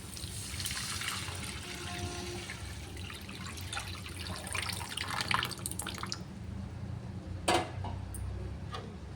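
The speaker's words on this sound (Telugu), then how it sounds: "ఇలా మసాలా అంతా బాగా వేగిన తర్వాత మనం పిసికి పెట్టుకున్న చింతపండు రసాన్ని అందులో వేసుకోవాలి" Tamarind juice is poured into frying masala in a pan with drumstick leaves. A faint trickle and drip sound up close ends in a couple of small splashes.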